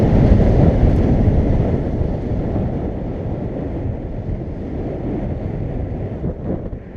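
Strong wind buffets the microphone on a cold, windy outdoor walk, a loud, continuous low rumble that eases slightly after the first couple of seconds but keeps roaring throughout with no speech.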